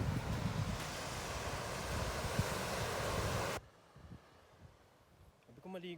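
Sea waves at a beach, a broad roaring wash of surf and wind buffeting the microphone that cuts off abruptly partway through, leaving a quieter background with a faint voice near the end.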